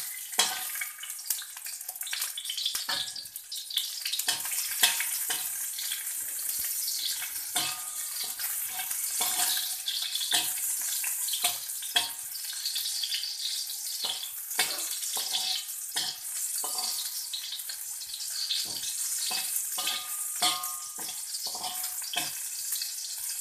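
Whole garlic cloves fry in oil in a soup pot for a sago soup, a steady close sizzle with constant crackling and scattered sharper pops throughout.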